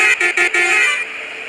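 A limited stop bus on a night street sounds its horn in three quick loud blasts, then a longer held honk that cuts off, leaving a fainter lingering tone.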